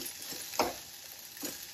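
Green beans and carrots frying in a pan for nachni soup, a steady quiet sizzle with a few soft stirring scrapes close by.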